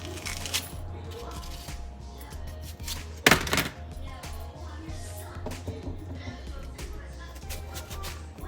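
A knife cutting food in a home kitchen, with soft repeated chopping thuds and one sharper, louder cut partway through, while someone talks over it.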